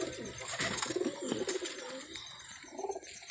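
German pigeons cooing in a breeder's loft, a soft, repeated low cooing with a few brighter chirps, fairly close, with no talk over it.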